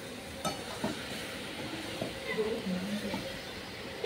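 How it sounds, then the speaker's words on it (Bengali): Chicken curry sizzles softly as it is sautéed for a long time over a homemade clay stove in an outdoor courtyard, a low, steady hiss with occasional stirring taps beneath people talking. "এটা এখন অনেকক্ষণ কষাবে তো এমনি হবে।"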